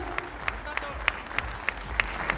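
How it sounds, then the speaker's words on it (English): Audience at a bodybuilding federation cup clapping for the top athletes on stage: a modest, steady patter of individual claps in a hall, with a voice speaking underneath. "Can I have a huge round of applause, everybody, for the top standing over here?"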